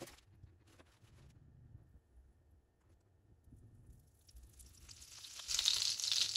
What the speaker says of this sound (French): Je vais faire fondre 30 g de beurre